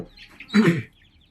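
Chickens give one brief, loud, close cluck burst, with faint chirpy sounds before it and quiet after.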